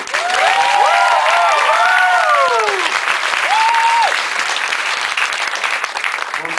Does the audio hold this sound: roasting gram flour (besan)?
no